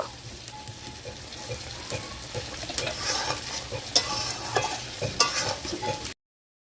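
Mustard oil added to a tamarind prawn curry in a pan, with steady sizzling and frying crackle under repeated scraping stirs, close and continuous, ending abruptly.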